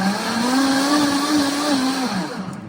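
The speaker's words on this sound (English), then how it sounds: "Then we'll add ice and blend again." A countertop blender whirs steadily while mixing a liquid lemon ice blend with ice, a loud continuous motor drone that dips slightly near the end.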